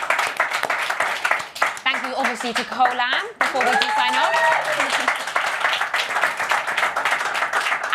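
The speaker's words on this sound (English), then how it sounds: "Round of applause." Studio audience in a box at a live Arsenal post-match show clapping, a dense burst of applause under a presenter's speech, with the clapping continuing steadily throughout.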